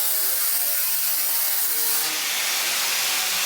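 Material being trimmed at a corner in a garage, with a steady, close rasping cut that runs continuously and fairly loud for a few seconds, no talk over it.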